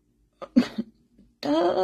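A schoolgirl's coughing in a classroom: a quick cluster of short, harsh coughs followed by a longer raspy one, close and fairly loud.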